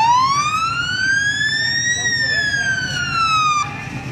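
A wailing siren rises slowly then falls on a truck rolling through a downtown Christmas parade, loud and fairly close, with crowd noise underneath and faint voices.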